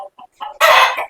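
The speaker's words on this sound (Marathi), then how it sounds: "हे बघा, हा एक आहे इथे कोंबडा" A farmyard rooster gives a few short, close clucks, then a loud, harsh squawk, with no other sound around it.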